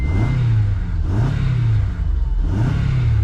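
A car engine with a fuel-related fault starts and revs in three repeated surges, each rising and falling, loud and close with a rough low rumble throughout.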